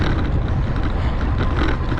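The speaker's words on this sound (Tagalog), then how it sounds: "Kaya malalas ang hangin, nakabukas yung electric fan." Steady rushing wind noise from an electric fan blowing air straight onto the microphone, loud and continuous with a low rumbling buffet and no pauses.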